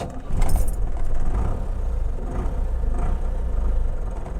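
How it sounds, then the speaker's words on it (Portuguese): A Ford F1000 pickup's MWM diesel engine turns over and catches, settling into a rough, rumbling run heard from inside the cab, with a metallic jangle near the start. "esse som sensacional do motor MWM invade a cabine"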